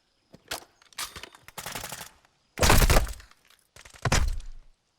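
Rapid gunfire bursts from a Call of Duty esports match, Seattle Surge versus Atlanta Faze, coming in several loud, dense volleys separated by short gaps, with no talk over them.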